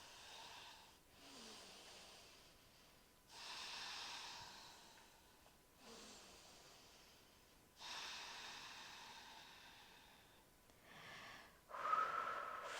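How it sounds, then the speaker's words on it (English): Slow, deep breaths drawn in through the nose and pushed out during a yoga stretch, each airy inhale and exhale lasting a few seconds in a steady repeating cycle, close and soft, with no talking. "Keep breathing in through the nose and out."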